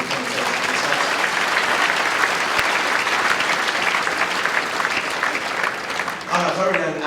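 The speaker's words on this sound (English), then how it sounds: "Give him a nice round of applause" A crowd at an indoor bowls championship applauds loudly and continuously, dense clapping that fills the hall and thins near the end, where a voice begins speaking over it.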